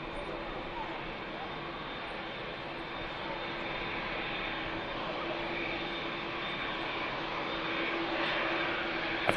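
An Airbus A380 taxiing at Manchester Airport gives a steady, broad jet-engine roar that swells slightly toward the end, heard from a distance with faint voices underneath.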